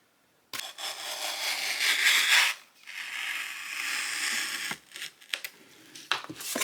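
Adhesive transfer tape sliced from its roll beneath a piece of plywood, a close scraping, rasping cut lasting a couple of seconds, then a few shorter scratchy strokes and small handling noises.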